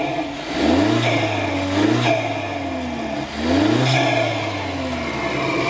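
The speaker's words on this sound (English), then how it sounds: "Rev it again." A VW MK6 Jetta TSI fitted with a new aftermarket intake revs up repeatedly, three rising and falling engine blips with intake whoosh, loud and close, with no talking.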